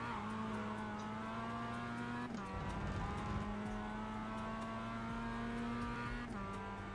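A Mazda MX-5 race car in iRacing at Mosport, its engine holding a steady droning note with two sharp drops as the driver shifts, plus a brief rough burst of tire noise between them.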